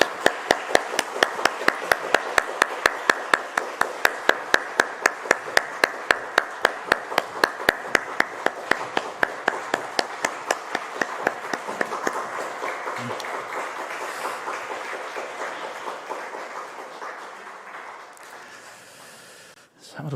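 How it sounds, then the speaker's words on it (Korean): A church congregation at a family dawn prayer service claps together in a steady, rhythmic beat, loud and even at first, then gradually fading and loosening into scattered applause, with a faint voice at the end. "다시 한번 우리 박수하겠습니다."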